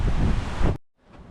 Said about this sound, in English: Really windy, so apologies for the audio.